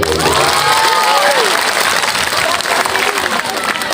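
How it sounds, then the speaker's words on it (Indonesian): Sustained applause from a crowd, steady clapping throughout with some shouting voices mixed in. "Tepuk tangan"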